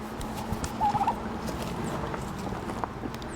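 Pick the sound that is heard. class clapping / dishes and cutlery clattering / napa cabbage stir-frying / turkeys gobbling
turkeys gobbling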